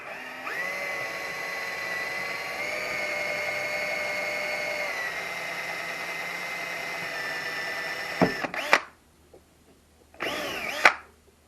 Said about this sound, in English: we're going to drill this through